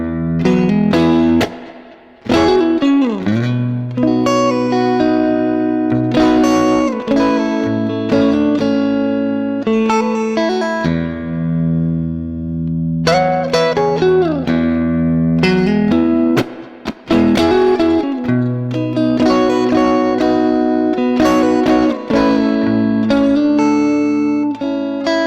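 An electric guitar plays an intro with effects, reverb and some drive. Bends and melodic phrases sustain loud and continuous with no talk.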